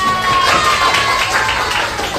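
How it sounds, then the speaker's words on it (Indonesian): Classroom applause for a student from a group of children, a steady wash of clapping lasting about two seconds with a faint tone and background chatter mixed in. "tepuk tangan dulu buat Dijan"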